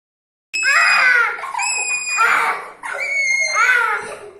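Children scream loudly in a classroom, high shrill voices overlapping in three long bursts with brief pauses between them, close and sustained.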